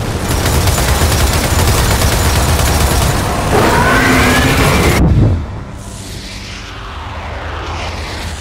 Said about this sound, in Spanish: ¡Sigan disparando!